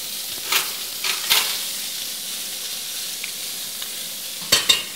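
Butter with garlic and pepper sizzles in a pan during beef fillet cooking, a soft steady frying hiss broken by a few sharp crackles and spatters, with no talk.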